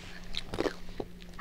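A piece of crunchy dried meat is bitten and chewed up close, a couple of short crisp crunches over a soft background hum.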